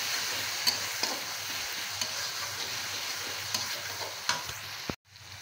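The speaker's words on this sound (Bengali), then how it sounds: "আমি দিয়ে দিচ্ছি এখানে রসুনের পেস্ট এবং জিরা দিয়ে এখন আমি একটু নাড়াচাড়া করে নিচ্ছি।" Garlic paste and cumin fry with browned onions in a pan, a steady close sizzle with faint scrapes and taps from stirring throughout, then a brief drop near the end.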